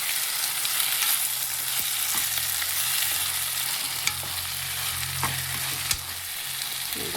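Tomatoes and chillies fry in a pan for dal fry with a constant, close sizzle, broken by occasional stirring clicks and a low hum beneath, with no talking.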